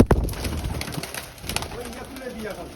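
Pigeons on a rooftop pigeon farm, a sharp knock and flutter at the start followed by soft, low repeated cooing close by, with faint background noise.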